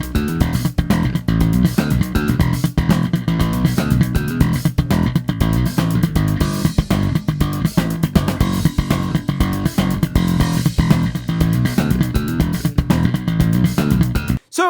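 A steady 120 bpm drum backing track for slap bass practice, with loud, dense, evenly spaced hits running continuously with no talk until it cuts off abruptly at the end.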